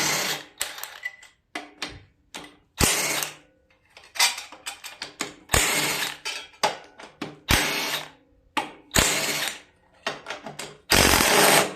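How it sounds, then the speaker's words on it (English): A ratchet with a 1/2-inch socket works the bolts on a Coast to Coast front-tine tiller engine, giving repeated close, loud bursts of rapid clicking separated by short pauses, with no talk. "And it's a 1/2-inch socket."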